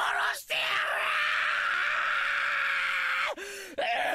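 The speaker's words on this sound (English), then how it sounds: "All right, Keiichi, that's an impressive scream you did there." A voiced character in the Higurashi visual novel lets out a long, loud, sustained scream that holds steady for over three seconds, with brief breaks near the start and end.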